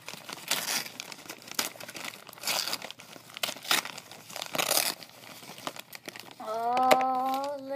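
Gift wrapping paper being torn open by hand, a series of crinkly rips and crumples in bursts, followed by a short high whine or squeal near the end.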